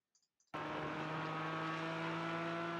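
A race car on a circuit comes off the brakes and back onto the throttle, its engine leaping from near silence into a loud, sustained in-car drone that holds steady after two faint clicks.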